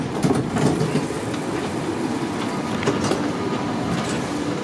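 Train rolling into Leipzig main station, a steady rumble with rhythmic wheel clatter and a few brief squeals, close and continuous, with no talk.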